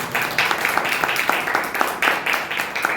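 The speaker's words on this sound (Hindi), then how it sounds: "ताली बजा के प्रभु के नाम।" A church congregation claps in rhythm, a steady run of sharp hand claps repeating at a quick even pace, close and fairly loud, with a faint voice underneath.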